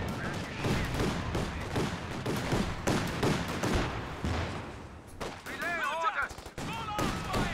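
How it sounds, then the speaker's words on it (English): Repeated gunfire from a Puma armoured car in Company of Heroes 2, firing through a hedgerow in a loud, dense burst of rapid shots with scattered battle effects, ending with short whistling game sounds and a few more cracks. "Puma shooting through the hedgerow"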